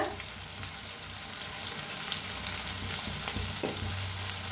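Chopped onion and tomato fry in a pan with a dense, steady sizzle, punctuated by occasional spoon scrapes and stirring knocks, close up with no voices.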